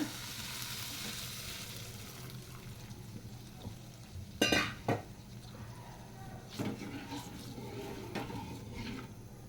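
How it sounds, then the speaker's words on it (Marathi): A tempering of spices for kokum saar sizzles softly in a pan, a faint steady frying hiss with a few sharp clinks and scrapes of a utensil partway through. "फोडणी एकदम मस्त बसली आहे"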